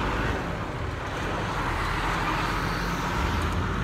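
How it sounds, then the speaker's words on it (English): A semi truck passes on a road outdoors, a steady broad rumble of engine and tire roar with wind noise, loud and close throughout with no clear rise or fall. "There's a semi coming."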